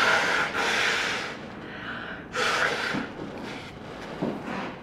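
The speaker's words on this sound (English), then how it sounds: "Gotta blow my nose." Nose blowing at a coffee shop, with two strong breathy blasts a couple of seconds apart and softer snuffling between them, loud and close with no talking.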